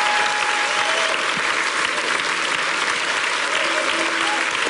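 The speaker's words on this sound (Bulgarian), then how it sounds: "след като чуем тези жестоки аплодисменти" A large television studio audience at a singing competition gives loud, sustained applause after a duet performance, with dense continuous clapping throughout.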